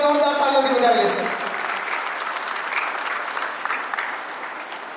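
An audience claps loudly at a 72nd birthday celebration, dense steady applause that continues throughout, with a voice speaking over the start.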